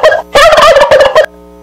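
A turkey on a farm gives a loud, close gobble, a rapid burst of warbling notes lasting about a second, followed by quiet with no talking.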